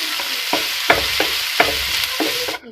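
Sliced ginger, garlic and green chillies frying in a hot pan, a steady close sizzle with a few stirring knocks and scrapes, loud and alone, cutting off abruptly at the end.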